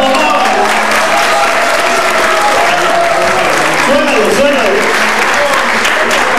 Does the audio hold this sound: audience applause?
yes